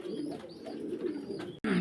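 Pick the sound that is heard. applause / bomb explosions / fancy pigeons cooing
fancy pigeons cooing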